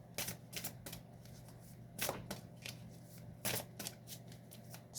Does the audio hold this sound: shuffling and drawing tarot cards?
yes